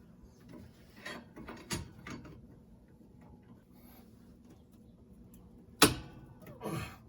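A seized nut and bolt on a Honda Pilot front sway bar end link breaking free under a wrench, quiet ratcheting clicks and creaks followed by one sharp, loud crack and a shorter scrape.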